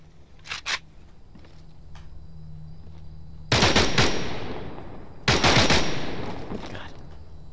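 AK rifle firing in the S.T.A.L.K.E.R. Anomaly shooter game, two loud rapid bursts of automatic gunfire, each followed by a ringing echo that fades, with faint clicks before them.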